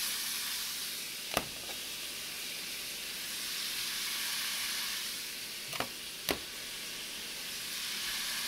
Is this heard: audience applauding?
no